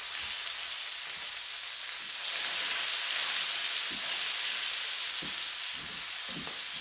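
A steady, loud hiss of onions and a burger frying in a pan, with a few soft scraping thumps as the food is turned over.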